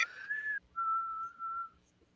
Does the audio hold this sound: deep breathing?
no